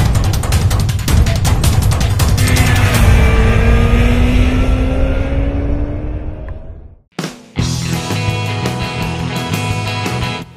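A 2012 Honda CBR1000RR Fireblade sportbike, around 180 horsepower, screams along the Portimao racetrack, revving hard through rising gear pulls and shifts, cutting out briefly before roaring back close and loud, with no talk.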